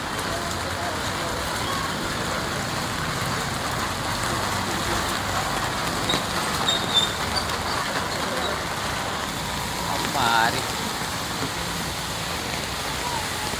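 Heavy rain, a dense, even roar of rainfall that holds steady throughout, with faint vehicle noise in the background.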